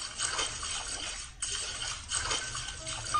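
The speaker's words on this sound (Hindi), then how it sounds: "ये पानी की इतनी आवाज आ रही है नीचे से" Running water sounds from below in the Granny horror game, a continuous splashing, trickling wash at moderate level with slight swells, heard without talk.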